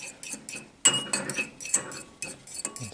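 A utensil clinks and scrapes against a dish while store-bought Walmart seasoning is mixed for barbequed rattlesnake, with quick close taps and stirring strokes in a short burst.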